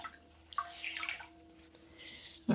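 A damp soft cloth is wrung out over a kitchen sink, water trickling and dripping in short splashes, quiet and close with no talk.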